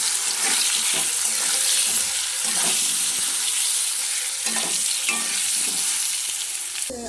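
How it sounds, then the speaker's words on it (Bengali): Potatoes fry in hot oil in a pan at home, giving a steady, close, broadband sizzle with a few soft stirring clinks and scrapes throughout, and no talking. "আলু ভাজা আলুগুলো তুলে নেব।"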